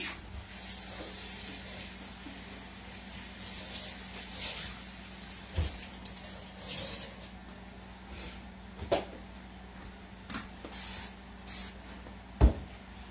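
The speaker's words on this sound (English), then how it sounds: "Let's move our ham so I don't spray it with soap." Soap cleaner is sprayed onto a kitchen stove in repeated short hissing bursts, spaced irregularly over a steady background hum, with occasional clicks and knocks from handling the bottle.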